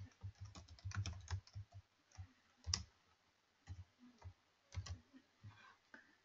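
Someone typing on a computer keyboard while entering a script: close, crisp key clicks in quick bursts separated by short pauses, with no talking.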